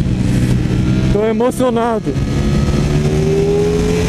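A Ducati Streetfighter V4S motorcycle engine drones loudly throughout, rising into a wavering rev and settling back, heard up close on the ride while someone speaks briefly over it.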